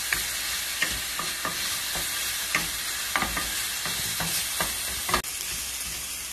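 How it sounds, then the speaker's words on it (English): Ginger and scallion stir-fry in hot oil, giving a steady loud sizzle broken by repeated scrapes and taps of a utensil against the pan. "And give it a stir. Stir it until it is fragrant."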